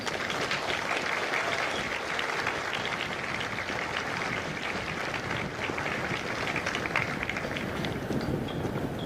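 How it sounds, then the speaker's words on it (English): Large outdoor crowd at a Marine Corps recruit graduation at MCRD San Diego applauding the families of Kilo Company, dense sustained clapping mixed with cheers, steady and loud throughout. "Please give a round of applause to the families of Kilo Company."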